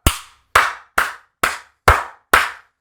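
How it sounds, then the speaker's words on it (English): Six separate sharp hand claps in a slow, even rhythm about half a second apart, each with a ringing room decay, close and clear with no talk. "Everybody clap."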